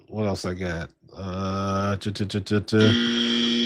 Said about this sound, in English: Got the buzzer.